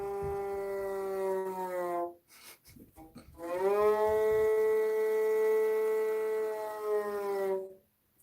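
A cow's moo imitated on a traditional stringed instrument in two long, sustained bowed tones with rich harmonics and a slight pitch sag at each end, separated by a brief gap of plucked or bowed noise.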